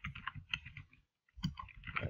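Keys clatter on a computer keyboard as a pip install command is typed: a quick run of close clicks, a brief silent pause, then another burst of keystrokes.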